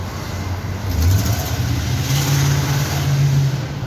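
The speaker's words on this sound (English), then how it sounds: "who rev up their engines for no reason" A car engine revs up loudly nearby, its pitch climbing and holding in a sustained growl over a few seconds.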